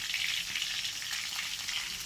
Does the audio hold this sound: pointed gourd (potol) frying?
yes